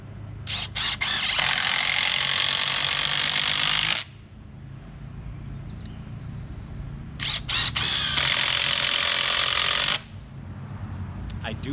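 A power drill drives screws to fix a chainsawed pumpkin carving onto a log below it: two long, loud, close whirring bursts of several seconds each, with short revving starts and a quieter pause between them.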